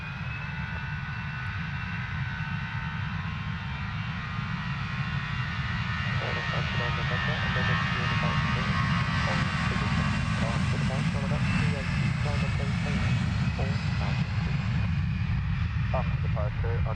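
An airplane departing Luton Airport roars steadily in the distance, a broad continuous engine rumble that swells slightly over time, while a voice talks over it throughout.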